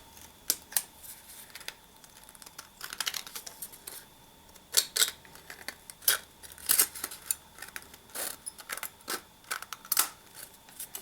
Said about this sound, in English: I'm going to take my scissors and just clean this up a little bit